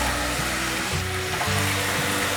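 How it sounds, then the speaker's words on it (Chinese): Tofu is added to a pan of boiling ginger juice and soy sauce with celery and minced ginger, giving a loud, steady sizzle and bubbling simmer with faint stirring. "现在放入豆腐"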